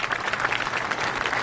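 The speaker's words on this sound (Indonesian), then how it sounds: "Usai bernyanyi terdengar tepuk tangan para penonton" An audience claps after a song, a dense burst of applause from a crowd, loud and continuous for a brief moment with no talk.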